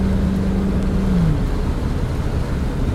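A Land Rover Defender 90 50th anniversary V8 automatic accelerates with a loud, steady engine drone and road noise. Its low tone slides downward partway through, then the engine roar continues without any talk.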